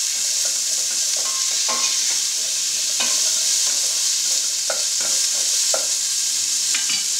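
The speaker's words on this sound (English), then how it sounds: "So I'm going to put my onions, celery, and carrots right in here. And just let this saute for a little bit." Onions, celery and carrots saute in hot oil and beef juice, giving a steady, close sizzle throughout with occasional soft clicks and scrapes of stirring.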